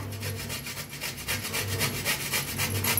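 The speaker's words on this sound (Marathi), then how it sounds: "तर आपण ना खोबरं पहिलं किसून घेऊया" Fresh coconut grated by hand, a close, continuous rasping of quick rhythmic strokes without pause.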